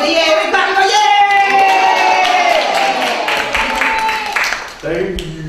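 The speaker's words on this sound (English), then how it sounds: "We clap and go yay!" Children at a magic show clap and shout "yay" together in a loud, sustained burst of cheering and applause, tapering off toward the end as an adult voice speaks.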